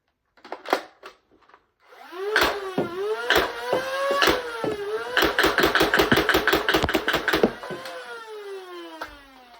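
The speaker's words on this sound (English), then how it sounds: "And then lastly, I'll do 15 rounds of Adventure Force Amber darts." Adventure Force Maxim Pro blaster firing Amber foam darts: a few single shots, then a rapid burst of many sharp repeated cracks over a whirring motor that winds down at the end.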